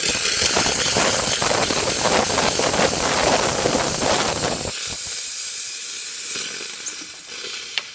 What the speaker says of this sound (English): So let's go ahead and test the steam.